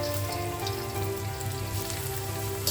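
Washed lentils dropped into hot oil with onions and cumin, giving a dense, loud, continuous crackling sizzle up close, like heavy rain, with a sharp burst at the end.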